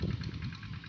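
Tractor engine working a rice paddy field, a faint low rumbling chug heard briefly at a distance, steady and unaccompanied by talk.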